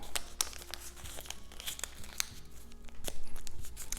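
Sheet of paper being folded up by hand, producing soft crinkling and crisp creases in short irregular bursts, close and fairly quiet, with no talking.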